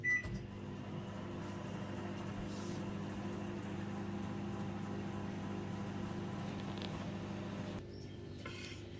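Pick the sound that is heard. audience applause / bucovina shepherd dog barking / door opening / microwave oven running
microwave oven running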